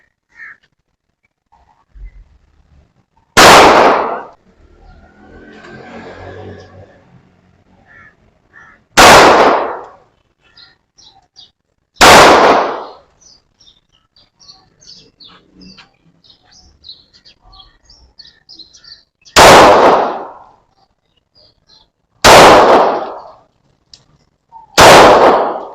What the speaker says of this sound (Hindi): अब ये वेपन खाली है, हमने 9 फायर कर दिए